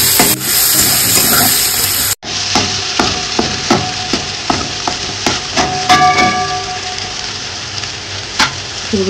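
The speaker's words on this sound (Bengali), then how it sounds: "লাল লাল দিয়ে ভাজা হয়ে যাবে, তারপরে মশলা দিই।" Chicken frying in oil in a pan over high heat for chicken kosha, a steady close sizzle with repeated sharp clinks and scrapes of stirring, interrupted by one brief cut near the start.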